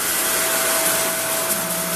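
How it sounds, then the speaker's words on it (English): A power sprayer blasts water across a screen-printing screen to clean it, giving a steady, loud, broadband hiss with a faint constant tone underneath, running unbroken for the whole two seconds without talk. "Once we start turning on our power sprayer"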